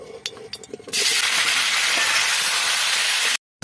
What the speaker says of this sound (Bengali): এখন আলুগুলো তেলে একটু ভাজিয়ে নিব